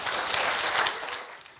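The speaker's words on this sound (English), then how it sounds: "So please, a big warm round of applause for Daniel Thorpe." Audience applause for a speaker at a summit for email service providers, a dense steady patter of clapping that holds level and then tails off near the end, with no voices over it.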